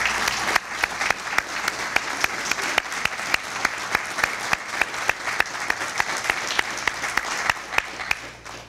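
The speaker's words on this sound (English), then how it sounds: "And I'd like just to give a round of applause to Rob and his team for" Audience applause at a small business capital summit fills the room steadily for several seconds, a dense even patter of many hands with a few sharper claps standing out, and no talking over it.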